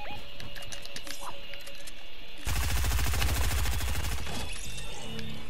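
Rapid shotgun gunfire in a multiplayer shooter video game bursts in loud and dense partway through, a fast run of blasts over ongoing game noise with no talk.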